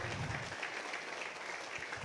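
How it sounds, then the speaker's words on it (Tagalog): A church congregation claps for the Lord, a steady wash of many hands filling the room at moderate volume, with a faint murmur of voices underneath and no single voice standing out. "let's give our best clap to the Lord."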